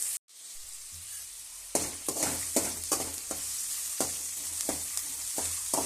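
Ingredients frying in hot oil for potato rice bath make a continuous sizzle, broken by repeated scraping stirs at a fairly regular pace after a brief silent gap near the start.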